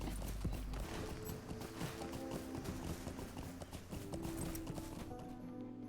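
Hooves of a horse in a video game clip-clop at a steady trotting rhythm all the way through, over a low game ambience with faint tonal music.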